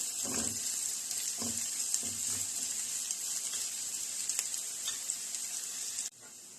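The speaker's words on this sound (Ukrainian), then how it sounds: "А зараз ми будемо смажити на олійці ось таку цибульку кільцями." Steady broadband sizzling and crackling of onion rings frying in vegetable oil, continuous and close, with a few soft knocks early on before it cuts off near the end.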